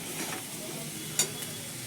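Food frying in a pan while being stirred, a quiet steady hiss with one brief sharp clink of the utensil.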